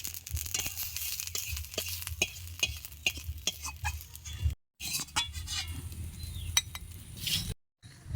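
Cumin seeds frying in hot oil while being stirred, with close sizzling and rapid spoon clicks and scrapes against the pan, broken by two brief silent gaps.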